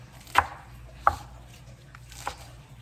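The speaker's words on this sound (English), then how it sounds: "I'm gonna chop my spinach very fine" Spinach being finely chopped on a board: three distinct knife strikes spaced about a second apart, close and fairly quiet, with no talk.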